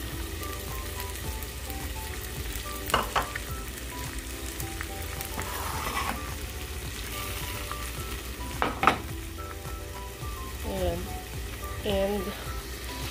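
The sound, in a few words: frying garlic fried rice and eggs in a pan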